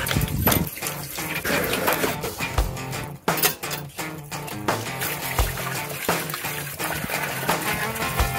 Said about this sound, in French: vider les eaux grises, vider la cassette des toilettes